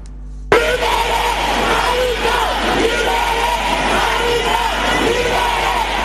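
Loud crowd in a courthouse hall booing and yelling at Ousmane Sey, the state's lawyer, a dense continuous roar of shouts and jeers that sets in abruptly and holds steady throughout.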